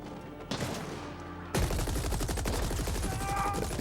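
Enemies open fire in The Ascent: after a quieter opening, a sudden loud, rapid stream of automatic gunfire takes over, its shots hammering in close, fast succession.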